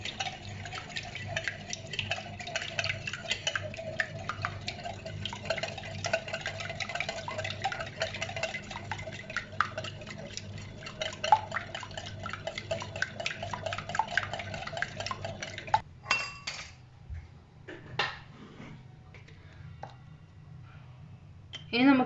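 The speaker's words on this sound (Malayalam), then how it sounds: "നമുക്ക് ഒരു വിസ്ക് ഉപയോഗിച്ചിട്ട് നന്നായിട്ട് ഇളക്കി കൊടുക്കാം" Three eggs for a Spanish omelette are beaten with a whisk in a bowl, a rapid rhythmic clicking that runs for about fifteen seconds before slowing to scattered taps.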